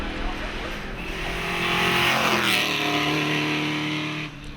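A 4.7-litre Shelby Mustang race car roars hard under acceleration on a British speed hillclimb course, its loud, rising engine note swelling and holding strong with a hint of tyre noise before easing slightly at the end.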